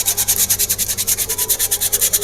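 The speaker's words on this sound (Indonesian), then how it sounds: "Ini kalau kampas kondisi kering kayak gini, teman-teman, ini teman-teman amplas saja." A dry motorcycle brake pad is sanded by hand with sandpaper, a close, rhythmic rasping scrape repeating in quick even strokes with no talking.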